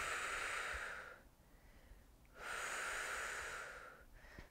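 A person breathes deeply during a gentle resistance band lower body workout, with two long, airy, close breaths separated by a quiet pause, steady and controlled.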